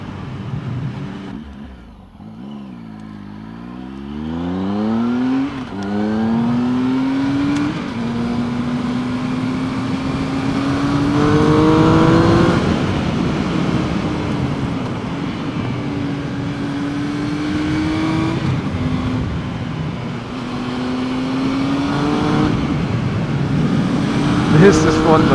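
A Triumph Speed Triple R motorcycle rides through bends, its engine note climbing and dropping through gear changes and throttle roll-ons, steady and fairly close, with wind rush around it.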